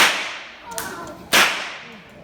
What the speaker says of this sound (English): another way that we can crack the stock whip while we're on the horse